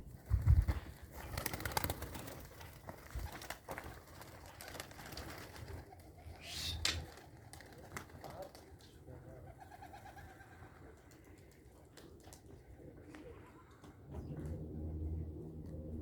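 Pigeons coo and call in the background with occasional wing flaps, amid faint rustling and a low rumble toward the end.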